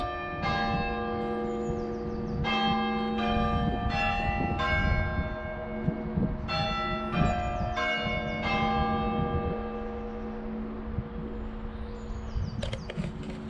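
Church bells ring out in overlapping, irregular peals, resonant and steady, with a low rumble underneath and no voices.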